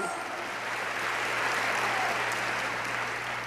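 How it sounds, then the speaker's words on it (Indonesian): Sustained applause from a congregation during a church service at Graha Bethany in Surabaya, a steady dense wash of clapping that holds at an even level throughout with no speech over it. "Tepuk tangan bagi Tuhan."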